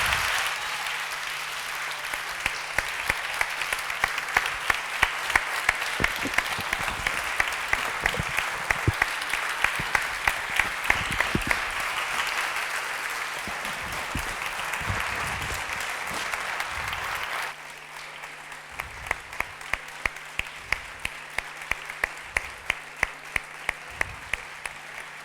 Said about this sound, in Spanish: Fuerte aplauso para Antonio Muñoz Molina.